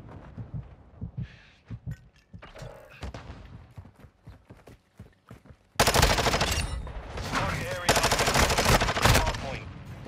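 Rapid automatic gunfire in the video game Call of Duty, with scattered shots early, then a loud sustained barrage filling the second half, close and dense.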